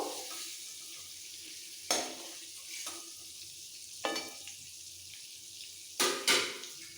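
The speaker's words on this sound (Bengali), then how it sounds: "বাকি চিংড়িটাও ভেজে নেব" Shrimp frying in a pan for mixed fried rice, a quiet steady sizzle broken by a few sharp scrapes and stirs, close but soft.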